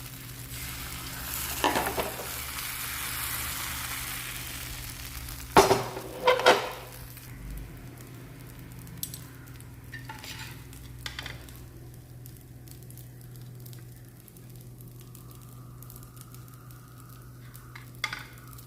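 Appam batter sizzles in a hot pan in a home kitchen, a steady frying hiss running throughout with a few sharp clinks of utensils near the middle; no one speaks.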